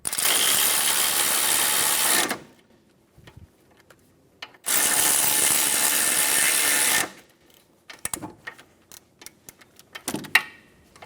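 Ratchet wrench snugging brake caliper bolts on a 2003-2007 Infiniti G35 front brake job: two long bursts of rapid clicking, separated by quieter pauses with scattered small mechanical taps and clinks.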